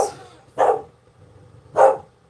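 Indoor dogs let out two separate loud barks about a second apart, close to the microphone, with quiet room tone between them.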